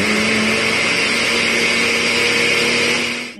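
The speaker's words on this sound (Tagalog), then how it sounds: "i-blender na po natin yung bigas" A kitchen blender grinds soaked rice with its soaking water for rice cakes, a loud steady whirring motor whine that holds for a few seconds, then trails off at the end.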